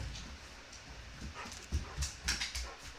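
Close, anxious dog whimpers and quick panting breaths come in uneven bursts, with a few louder thumps or scrabbling sounds toward the end.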